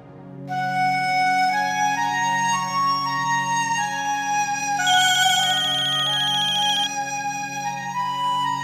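A phone ringtone plays a bright, looping electronic melody, steady and fairly loud, with no voices over it.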